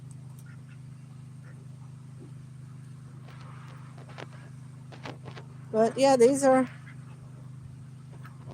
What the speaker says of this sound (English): We're going to be breeding our Icona ducks up.